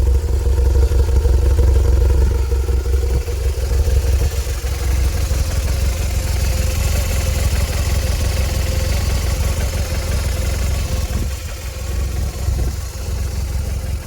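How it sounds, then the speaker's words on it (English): A cold 2010 BMW R1200-RT motorcycle engine idles steadily close by, a continuous low mechanical rumble with light clatter that holds even throughout and drops slightly near the end, no voices present. "this is the way the bike sounds on idle. Obviously it's cold."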